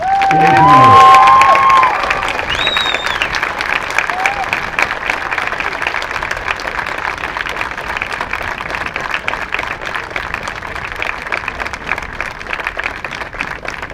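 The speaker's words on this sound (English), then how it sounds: "would you please rise and give a round of applause to Vinnie's family in his memory" A football stadium crowd rises and applauds in memory of Vinnie, honoring his family: sustained clapping and scattered cheering roll on for over ten seconds after a brief amplified tone at the start.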